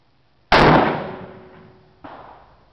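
A single sharp, loud shot from a .243 rifle firing 80-grain bullets at a 100-yard range, with a long decaying ring and a fainter second impact-like report about a second and a half later.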